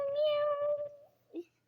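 A voice imitates a cat, giving one drawn-out tonal meow that slides downward, followed by a brief short squeak.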